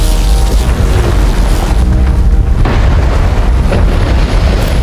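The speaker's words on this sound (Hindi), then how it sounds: "साइक्लोप्स अकेले अपने लेजर को यूज करके एक धमाकेदार लैंडिंग करता है" Cyclops makes an explosive landing with his laser in the X-Men '97 cartoon, a loud, sustained blast of booming roar that fills the whole clip.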